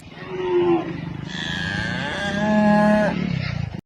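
A buffalo moos loudly and close, a long drawn-out low bellow that rises and wavers across several seconds, alone with no talk.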